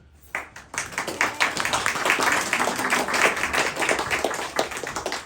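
A crowd bursts into applause, many hands clapping steadily and fairly loud for several seconds with no talking.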